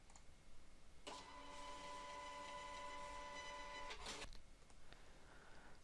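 Point-of-sale printer printing out a salesperson summary report: a steady, buzzing mechanical run of about three seconds, ending in a sharp clack, over quiet room noise.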